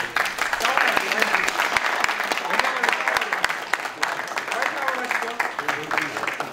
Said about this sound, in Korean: 박수 한번 주시고